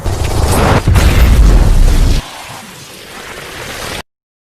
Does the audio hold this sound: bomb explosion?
yes